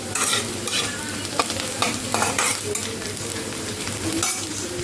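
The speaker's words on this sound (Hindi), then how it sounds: "यहाँ थोड़ा सा चिल्ली बचा हुआ है, जो मैं मॉर्निंग में चिल्ली बनाई थी, सोयाबीन चिल्ली, और यहाँ पे चावल है तो मैं ये हल्का सा ब्राउन कर लेती हूँ।" Leftover soybean chilli being stir-fried with rice in a pan, a close, continuous sizzle with frequent scraping spatula strokes at a moderate level and no talking.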